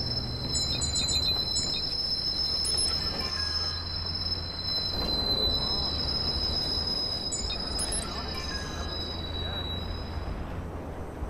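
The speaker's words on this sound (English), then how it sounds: "Train arriving shortly." A train arriving at a station in Watch Dogs, with a steady loud rumble of wheels on rails and high metallic squealing brakes running throughout, a faint announcement-like voice mixed in.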